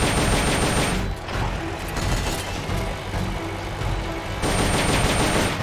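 Dense gunfire from Metal Gear Solid: Peace Walker sounds as sustained rapid bursts over a rumbling engine-like background. There is a slightly quieter stretch in the middle and no talk.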